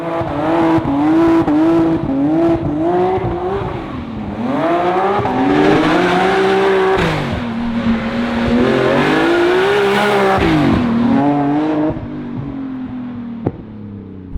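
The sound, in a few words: 800 hp BMW M Coupe engine revving during drive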